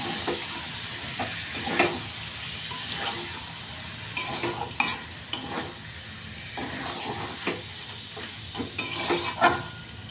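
Yogurt-marinated mutton sizzles in spiced oil after the masala is cooked down, a close, continuous frying hiss broken by repeated scraping and stirring clatters from a spoon against the pan.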